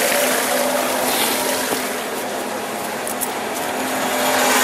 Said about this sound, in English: there's the water from the pelton wheel.